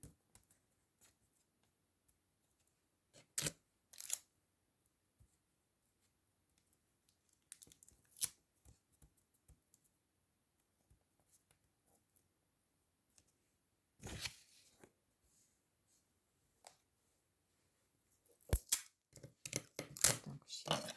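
Adhesive tape being pulled off a roll and pressed onto fabric during garment sewing practice gives scattered short tearing and crinkling bursts, quiet and close, with long silent gaps and a denser cluster near the end.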